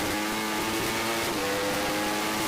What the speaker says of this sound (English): Let's see how the motor of that BMW goes